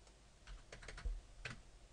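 Quiet, close keystrokes on a computer keyboard come in a short irregular burst of soft clicks as values are entered, with no voice.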